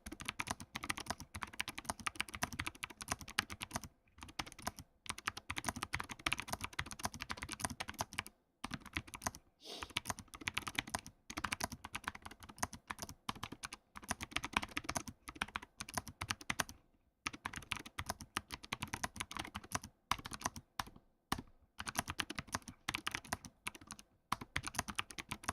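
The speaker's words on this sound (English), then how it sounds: "So hopefully you can hear the difference there, clicky and silent." Fast, continuous typing on a keyboard with clicky switches, a dense stream of crisp key clicks with a few short pauses, close and fairly quiet, with no talking.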